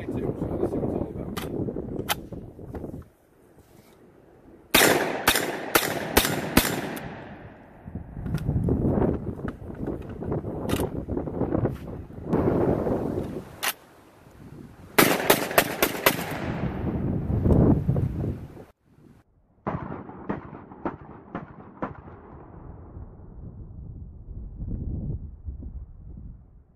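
Lynx 12 AK-pattern semi-automatic shotgun, an SDS Imports LH-12, fired outdoors in several loud bursts of rapid shots, with sharp cracks separated by pauses, some wind noise and talking between strings of fire.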